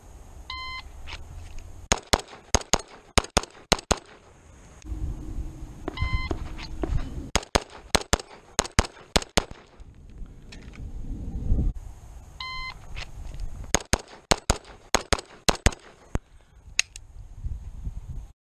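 A shrill shot-timer beep sounds, then a rapid string of sharp, loud shots from an FN FNX-45 .45 pistol follows; this beep-then-volley pattern repeats three times.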